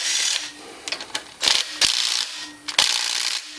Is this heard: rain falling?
no